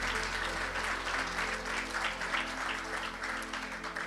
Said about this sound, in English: So please give yourselves also a big round of applause for showing up.